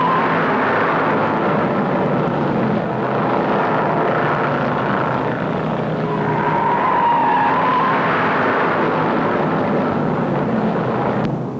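Stock race cars, among them a Pontiac, lapping an oval at over 150 mph, a steady loud engine roar filling the whole stretch with a slight swell as cars pass, no voices.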